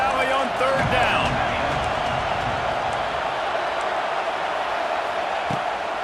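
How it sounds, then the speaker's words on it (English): Big stadium crowd noise in a college football video game, the Happy Valley home crowd roaring on third down; a loud, steady wash of crowd sound filling the whole stretch. "Here comes the noise from this big crowd in Happy Valley on 3rd down."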